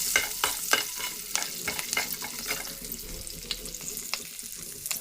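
Curry leaves crackle and spatter in hot oil in a pan as a tempering fries for a Telugu eggplant curry, a steady sizzle broken by sharp popping bursts, close and with no voices.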